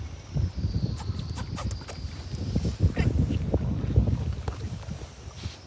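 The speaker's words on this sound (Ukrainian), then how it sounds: "ви там, мабуть, нічого не чуєте, вітер все задуває" Wind buffets the microphone in loud, rumbling gusts outdoors in Venice, with faint distant sounds underneath.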